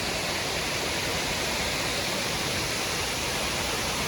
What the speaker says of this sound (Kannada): ತುಂಬ ಸ್ಮಾಲ್ ವಾಟರ್ ಫಾಲ್ಸ್ ಇದ್ದಾವೆ.